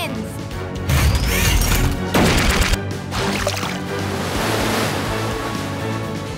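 A cartoon water cannon in a PAW Patrol beach rescue puzzle game blasts fish treats out to sea, loud crashing whooshes of spraying water over a steady surf-like roar.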